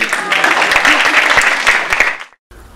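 Loud, dense applause from the audience at a Hindi comic poetry gathering, sustained for about two seconds before cutting off abruptly to near silence.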